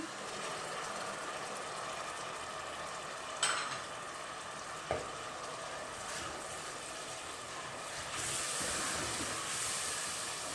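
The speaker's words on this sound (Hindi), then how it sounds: "अब इसमें मैं ये जो मैंने टमाटर ब्लेंड किए थे ये ऐड कर रही हूँ।" Blended tomatoes sizzle in frying masala for a special channa dish, a soft, steady frying hiss with a couple of brief utensil clinks and a slight swell near the end.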